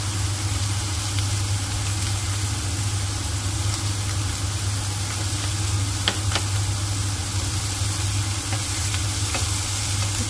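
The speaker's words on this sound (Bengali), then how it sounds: "অল্প একটু নাড়ছি, মিক্স করে দিচ্ছি" Potato and cauliflower curry sizzles steadily in a pan while a utensil stirs it, with a constant low hum beneath and a few sharp scrapes of the spoon.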